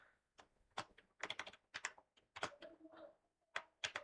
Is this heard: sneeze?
no